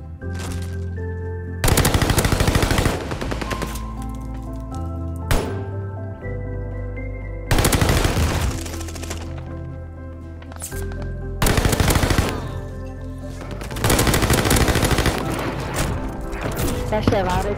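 Video game guns fire in loud bursts of rapid automatic gunfire, several separate volleys with short gaps between them, heard close over a constant game soundtrack.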